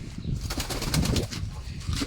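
Pigeons in a loft, including black Mushaldam birds, give soft low cooing and faint rustling, with a few brief wing flutters close by and no talking.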